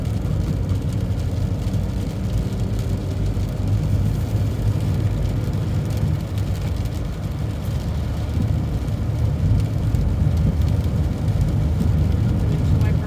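A car drives along Highway 112 heading toward Joyce, its steady low engine and road rumble filling the interior continuously from start to finish, with no speech over it.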